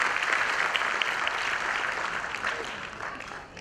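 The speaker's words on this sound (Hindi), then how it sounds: "अभी हमारे सभी कलाकारों के लिए एक बार जोरदार तालियां बजाएं और उनका स्वागत करें मंच पर" A stage audience applauds performers with a sustained, dense burst of clapping that fades slightly at the end.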